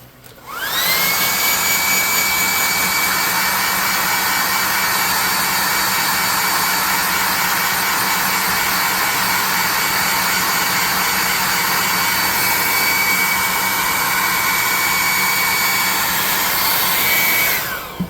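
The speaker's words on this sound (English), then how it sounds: "Let's blow dry this bad dab and get a look at it and see where we're at." A blow dryer runs continuously at close range to dry paint on a painted miniature, a loud steady whooshing whine that starts abruptly and cuts off near the end, with no talking.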